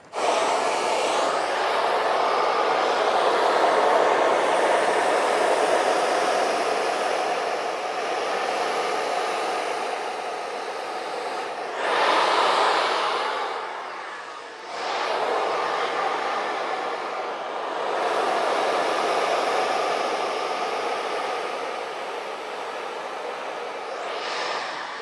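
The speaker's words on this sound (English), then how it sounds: "you're trying to pull the hair down using the hair dryer" A hair dryer blows continuously at close range, its airy roar briefly shifting and dipping in pitch as it is moved around.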